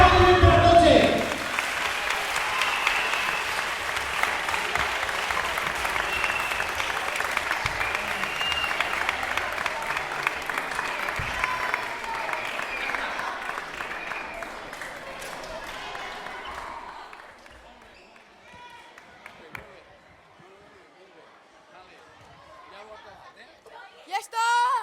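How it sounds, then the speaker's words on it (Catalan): Audience applause at a live show, a dense, sustained burst of clapping and crowd chatter lasting about fifteen seconds before fading to scattered claps and murmurs. "Un aplaudiment per a tots ells!"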